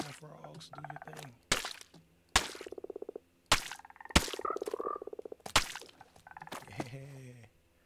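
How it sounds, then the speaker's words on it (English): Frogs croak repeatedly in Minecraft at night, rhythmic bursts of ribbed croaking interleaved with sharp thwacking hits, loud and close, with someone talking over parts of it. "Alright, I got a frog in my house"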